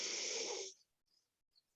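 One deep, close breath rushes out loudly for under a second, then fades into near silence broken by two faint, brief breathy sounds.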